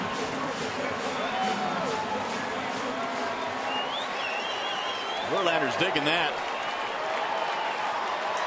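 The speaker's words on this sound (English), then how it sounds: "The crowd has come alive with the 2-run Bosch homer" A baseball stadium crowd cheers and applauds after a two-run home run, a broad roar heard beneath a broadcast commentator's talk, with a brief louder burst partway through.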